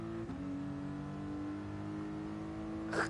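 A game car with an HKS air filter holds a steady, droning engine tone at sustained revs, with a brief bright intake whoosh near the end and no talk.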